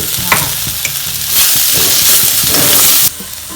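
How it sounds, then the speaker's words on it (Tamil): Soya meat being lightly sautéed for deviled soya, with loud, close scraping stirs over a constant hissing sizzle in the pan. "ரொம்ப நேரம் இதை வதக்கக்கூடாது. லைட்டாக வதக்கணும்."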